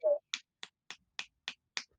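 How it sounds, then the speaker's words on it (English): Six sharp finger snaps ring out one at a time at a steady, even pace, close and clear against silence, after a brief vocal sound at the start. "This is me snapping my fingers."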